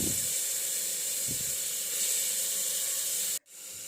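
Chicken meat hits melted butter in a pot and sizzles loudly in a dense, steady hiss up close, with a couple of soft knocks early on, until the sound cuts out abruptly near the end.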